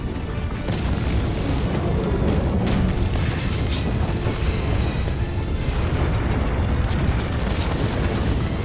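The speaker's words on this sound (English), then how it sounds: "Bomb! Get down!" A bomb goes off in the video game Broken Sword: The Sleeping Dragon. It makes a loud, sustained, rumbling roar that fills the whole stretch with dense low-heavy noise and debris crackle, and no voices are heard.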